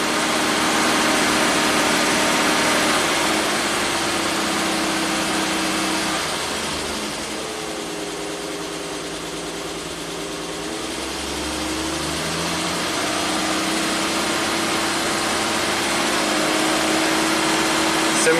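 A 1967 Triumph GT6 engine held at 2300 RPM, a steady close running drone that dips slightly in the middle before returning to an even, loud hum, with no voices.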